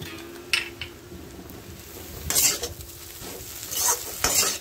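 Egg podimas with ginger, spring onion and coriander being stirred and fried in a pan, with scraping spatula strokes and soft sizzling that swell in a few louder bursts, no talking.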